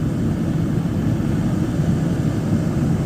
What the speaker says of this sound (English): Okay, so the compressor just kicked on.